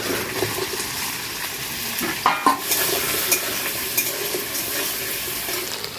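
Cut taro corms hit hot oil tempered with cumin, dried red chilli and bay leaf, a steady sizzle with a few sharp clinks and scrapes of stirring, close up.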